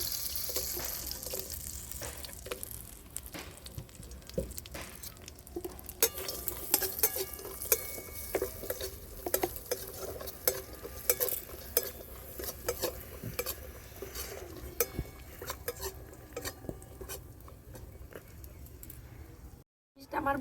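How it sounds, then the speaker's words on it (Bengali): Cashews and raisins frying in ghee in a kadai for carrot halwa, stirred with a utensil; steady scraping and clinking over a soft sizzle for most of the span, ending with a brief silence and a final clatter. "এই ঘিয়ের মধ্যে আমি কাজু কিশমিশটাকে ভেজে নেব।"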